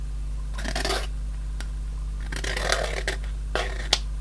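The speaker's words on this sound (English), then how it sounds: "Just like that, with a pair of scissors or a knife or whatever." Scissors scraping the edge of a PCB toner transfer, several short scratchy bursts of rasping over a steady low mains hum, with a sharp tap near the end.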